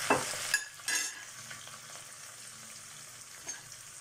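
Onions and squid sautéing in a pan: a few sharp stirring scrapes and clatters early on, then a faint, steady sizzle that carries on alone without voices.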